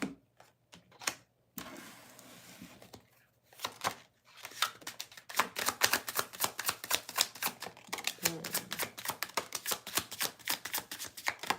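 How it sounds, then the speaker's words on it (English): Tarot cards are shuffled by hand in a rapid series of crisp riffling snaps, sparse at first, then dense and rhythmic, fairly close and alone with no talk. "you guys see me shuffle"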